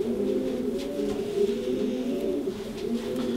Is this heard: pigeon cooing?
yes